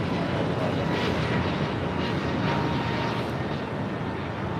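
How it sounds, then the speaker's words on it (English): An American Airlines A321neo takes off from LAX toward Philadelphia, its engines giving a dense, steady roar that holds close and loud for the few seconds heard, with no talk over it. "This is American 513 taking off to Philadelphia on an A321neo"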